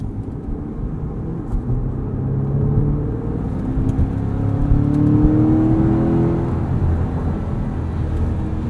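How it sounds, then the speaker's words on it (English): A 2020 Chevrolet Corvette Stingray Convertible engine hums steadily while cruising, a smooth low drone with gentle rises in pitch as it accelerates, heard from inside the car with no talking. "This is such a fun sports car to daily drive."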